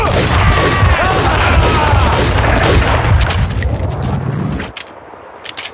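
Gunfire in the video game Max Payne 2: The Fall of Max Payne: loud, dense bursts of shots and booming impacts pile up continuously, then break off abruptly into a few scattered sharp hits, with voices faintly beneath.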